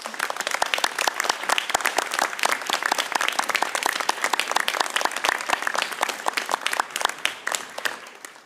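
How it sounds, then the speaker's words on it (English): Loud, dense applause from a large audience at a university graduation ceremony in Launceston, continuous and even throughout without letting up. "express your gratitude to your families and friends who've supported you with a round of applause"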